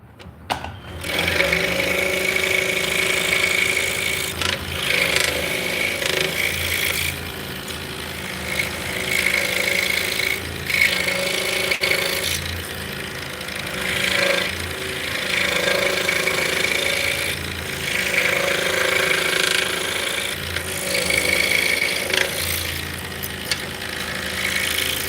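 A saw blade making an internal cut through an entry hole drilled in wood, a steady buzzing mechanical drone with rhythmic chattering that rises and eases in long passes, fairly loud and close, with no talking.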